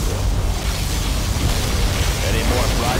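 A loud, sustained particle cannon blast from the Command & Conquer Generals USA campaign, a dense continuous roar of low rumble and crackling noise holding steady for several seconds with no letup.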